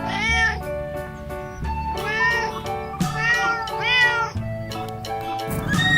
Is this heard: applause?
no